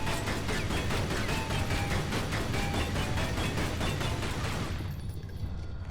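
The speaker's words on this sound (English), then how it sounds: "Opens up the big dramatic gate there that slides vertically out." A big gate slides vertically open in the Tomb Raider Anniversary video game with a loud, continuous grinding rattle of rapid mechanical clicks that stops abruptly after about five seconds.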